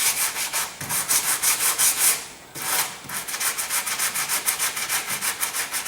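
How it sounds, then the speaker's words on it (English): Sanding a Rover SD1 car door by hand, a close, rhythmic rasping scrub with fast back-and-forth strokes and a brief pause near the middle. "just gonna sand this off"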